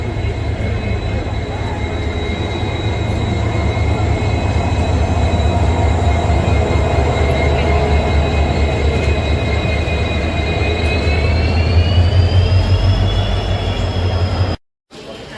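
A train rolls into a railway station at night with a steady, loud rumble of wheels on rails and thin metallic squeal tones that rise slightly near the end.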